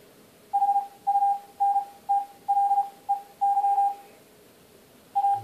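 Morse code tones from an Android Morse teaching app sent at a faster Farnsworth speed: a single steady beeping pitch keyed in clear dots and dashes, grouped into characters with short gaps, fairly loud in a slightly echoey kitchen.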